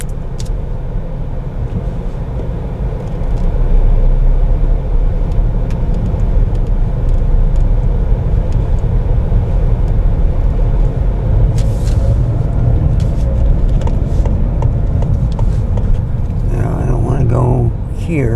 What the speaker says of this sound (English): Now we just have to wait for all the traffic to turn right.